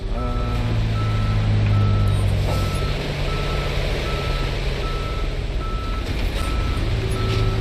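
A tow truck in the Police Simulator: Patrol Officers game reverses with steady, evenly spaced warning beeps over a loud, rumbling diesel engine idle, continuous and close, with no talking.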